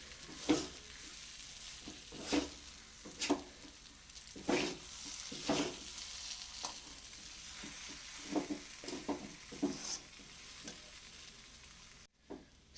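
Semolina being stirred in a kadai for barfi: a soft continuous sizzle broken by repeated scraping strokes of the spoon against the pan at an irregular rhythm, fairly quiet and close.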